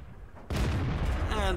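A tank cannon in a tank video game fires once: a sudden loud blast that breaks a quiet lull, followed by a sustained rumbling boom that rings on to the end.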